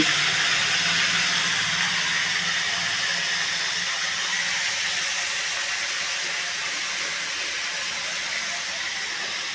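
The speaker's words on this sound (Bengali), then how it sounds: "আমি এটার মধ্যে এখন এই ভাড়ালিটা ছেড়ে দেবো।" Bharali fish dropped into a hot pan with dry and green chillies, giving a steady, loud broadband sizzle and hiss that holds evenly and eases slightly over about ten seconds, with no talking.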